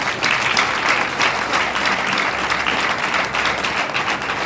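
Audience at a graduation ceremony for entrepreneurs applauds steadily, a dense, even wash of many hands clapping at once, sustained throughout without a break.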